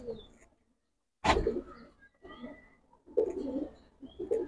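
Pigeons at a Bengali pigeon seller's stall, silver Musaldam flying breeds, coo in soft rounded bursts, with a louder close call near the middle and further cooing after short pauses.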